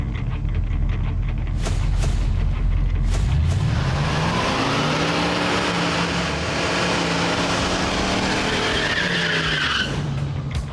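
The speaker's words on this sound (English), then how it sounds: "Some say it's because you're trying to clean the tires off, and some say it's because you're putting heat in it for better traction." A Hurst/Olds with a 455 engine spins its tires in a burnout, a deep idle rumble giving way to a loud rising rev and a long, sustained tire skid and squeal, close and continuous.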